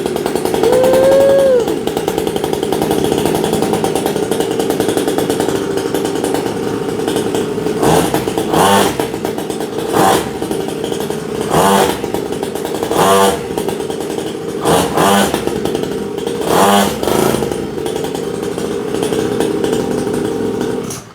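A SYX Moto 50cc dirt bike engine running loud and close, a buzzy two-stroke idle broken by a series of sharp throttle revs in the second half.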